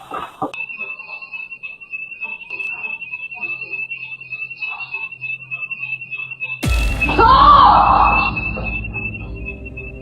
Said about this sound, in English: An alarm inside the house suddenly went off.